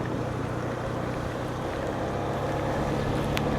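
Strong floodwater current rushes past a road during a typhoon in Angeles City, a dense, continuous roar that stays loud and unbroken throughout, with wind mixed in.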